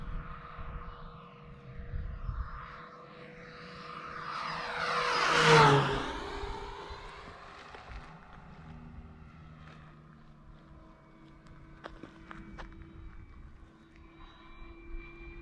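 An E-flite Focke-Wulf 190 RC plane at full throttle on a 100C battery roars past in a loud buzzing flyby that swells to a sharp peak and Doppler-drops, then fades into a distant whine.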